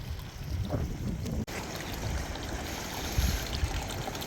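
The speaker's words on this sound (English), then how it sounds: "the actual bathing pool where I believe the hot spring water actually runs into before it trails off into the river" Warm hot spring water runs steadily into an outdoor bathing pool beside a river in Spain, a constant close trickling wash with gusty wind noise over the microphone and no talking.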